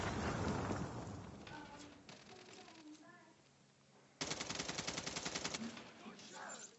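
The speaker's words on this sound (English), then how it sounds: "Sentry gun deployed." A sentry gun in a war video game fires a long, rapid automatic burst partway through, loud and rhythmic, after muffled rumbling game-battle noise and a quieter lull.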